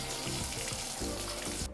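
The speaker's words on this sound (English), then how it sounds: "we've got this big pot that we have to fill up with water" A large pot fills with running tap water in a kitchen while crab legs are being prepared for steaming: a steady, close, rushing splash that continues evenly without a break.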